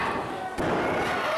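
A wrestler is slammed onto the mat by a rope-assisted spinning neckbreaker, a single heavy thud partway through, with a commentator's voice and crowd noise running around it.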